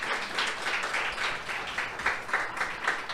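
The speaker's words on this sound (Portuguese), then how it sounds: "Dê um aplauso a Jesus." A church congregation applauds during a sermon, a steady wash of clapping from many hands at moderate level that runs throughout without a break.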